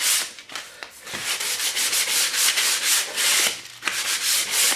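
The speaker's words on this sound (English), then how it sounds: "So just a quick sand" Quick hand sanding along the rough cut edge of a DIY access panel cover, a steady series of close, rhythmic scratchy rubbing strokes with brief pauses, no talking.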